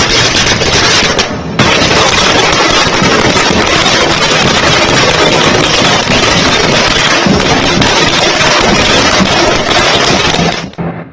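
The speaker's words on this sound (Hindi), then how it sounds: "केरल में देखिए दिवाली मन रही है, पटाखे फोड़े जा रहे हैं" Firecrackers bursting at a Diwali-style street celebration in Kerala, a dense loud crackling barrage that runs almost nonstop, with a short break near the start, heavy and harsh throughout.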